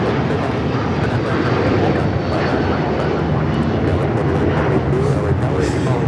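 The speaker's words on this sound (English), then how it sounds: "This is United Airlines 1635 taking off to Washington Dulles on the 757-300" United Airlines Boeing 757-300 taking off from Los Angeles International Airport for Washington Dulles, a sustained loud jet roar filling the whole stretch, with faint voices underneath.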